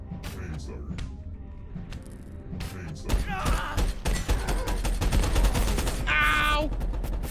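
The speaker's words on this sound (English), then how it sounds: "Phaser." A phaser weapon fires in Abiotic Factor as a quick run of sharp, punchy blasts, followed by a brief bright, ringing zap. Excited voices are heard around the shots, and the game's background sounds continue underneath.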